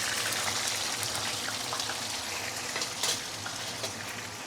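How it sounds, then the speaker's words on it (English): Fish sizzles and crackles steadily in smoking-hot oil in a wok, a dense continuous spattering hiss with occasional louder pops, no talking. "So frying fish, your oil has to be smoking point."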